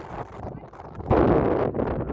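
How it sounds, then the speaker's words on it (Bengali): Strong wind gusting across an open beach at Bakkhali, a broad steady roar that swells louder halfway through and stays close and heavy, with no voices over it. "বেশ জোরে হাওয়া বইছে"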